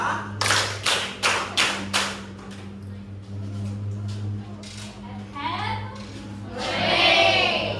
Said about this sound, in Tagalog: Kung naunawaan niya, ay pumalakpak ng 5.